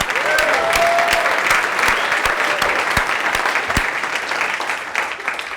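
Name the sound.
audience applause at comedy open mic night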